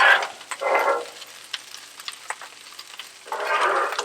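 Eggs and butter fry on a Blackstone griddle for fried rice, with bursts of crackling sizzle broken by short scraping and stirring clicks, loud and close.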